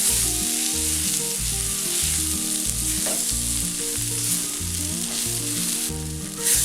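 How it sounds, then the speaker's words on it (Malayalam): Soya chunks roasting with coconut pieces, coriander leaves and a slit green chilli sizzle loudly and continuously in the pan as they are stirred, with a steady rhythmic thumping underneath. "ഇത് വീണ്ടും ഒന്നും കൂടെ മിക്സ് ചെയ്യാം"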